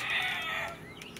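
Selective White laying hens cluck and squawk loudly at close range in a brief burst, the call fading over about a second.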